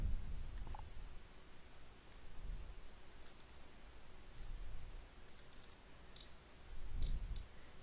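A computer mouse clicks a few times, very faint and sparse, with the light taps falling late in the stretch over a soft background hiss.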